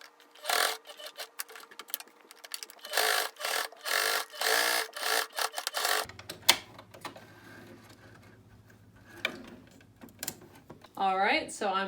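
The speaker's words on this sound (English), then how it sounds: "we're going to go over to the sewing machine" Rapid mechanical stitching of a sewing machine sewing a pleated fabric face mask in several short bursts, then a low hum and quieter handling sounds with a brief voice near the end.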